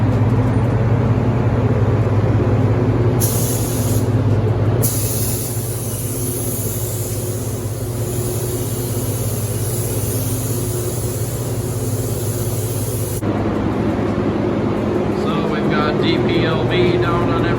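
A paint spray gun laying sealer over 1959 Cadillac Eldorado panels hisses as a steady, loud, continuous spray, broken by short pauses and a shift in tone near the end.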